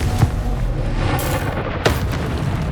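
Confringo blasting spells from the video game Hogwarts Legacy go off as a few sharp booming blasts over a steady rumbling game soundscape, with a loud burst near the start and another near the end.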